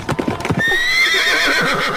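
A horse on a horse farm clip-clops with a few quick hoof strikes at the start, then gives a loud, drawn-out whinny that carries on to the end, close by and with no talking.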